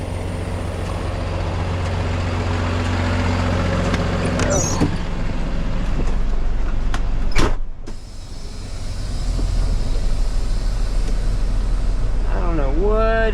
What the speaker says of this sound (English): I will let the winch do the work.